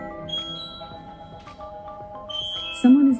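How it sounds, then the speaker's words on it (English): A BOTSLAB Video Doorbell 2 Pro chime plays through an Amazon Echo: clear, ringing electronic tones sound twice, then a louder tone swells near the end, all over a quiet background. "you can set it up so it chimes off your Echo."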